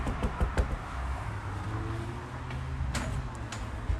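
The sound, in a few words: knocking on a door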